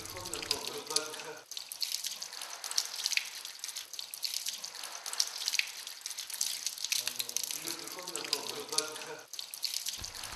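Water runs and splashes from a tap in a sink during ablution while the ears are washed, a continuous trickling flow with repeated splashy bursts, close and moderately quiet.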